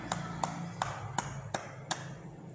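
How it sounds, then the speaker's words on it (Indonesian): Six sharp hand claps spaced evenly about every 0.4 seconds, close and fairly quiet, performed as a demonstration during a primary-school class lesson. "gerakan terakhir adalah tepuk tangan"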